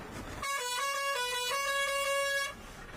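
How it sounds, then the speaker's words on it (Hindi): A truck's pressure horn on a dangerous mountain road blasts in one loud, sustained multi-tone honk of about two seconds, close by and on its own. "They also use pressure horns,"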